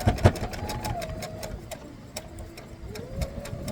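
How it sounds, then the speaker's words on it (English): A sewing machine stitching quilt sashing at close range, rapid regular clicking over a rising and falling motor whine. "I will be doing everything by my sewing machine."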